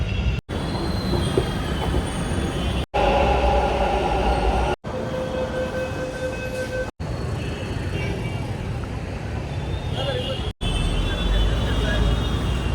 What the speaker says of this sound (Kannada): ಸೊ ಅದಕ್ಕೋಸ್ಕರ ಇವತ್ತು ಮೆಟ್ರೋಲೇ ಹೋಗೋಣ